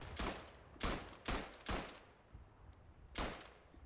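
A Chauchat machine gun fires in Verdun, five or six sharp, loud single shots in an uneven rhythm, with a pause before the last one, with no talking.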